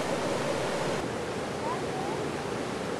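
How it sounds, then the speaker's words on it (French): Clear water cascades down into the Pas de Cère gorge, a steady broadband rushing that stays even and continuous throughout. "Au fond de ce gouffre noir qui n'est qu'une illusion, l'eau cascade, claire et pure."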